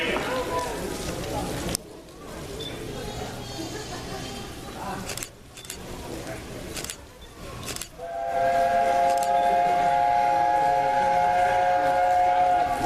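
Steam locomotive 60009 Union of South Africa whistles as it passes, a long bright blast following rumbling rail noise and brief voices, with a diesel trailing at the back of the train.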